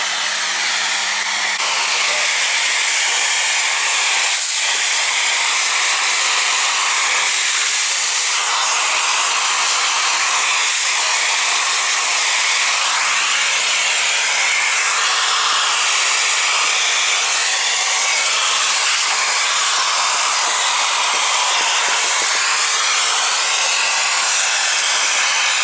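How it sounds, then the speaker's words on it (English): A vacuum cleaner sucks up dust inside a Toyota AE86 Trueno, giving a loud, steady, airy roar that runs without a break for the whole stretch, with no talking. "So when I remove it, so I'm going to vacuum"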